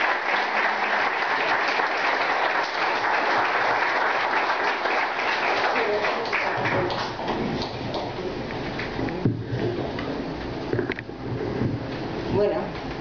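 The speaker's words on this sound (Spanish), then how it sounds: "Denle un aplauso al Señor, hermano." A church congregation applauding during a Christian testimony service, sustained dense clapping that gradually thins, with voices mixed in toward the end.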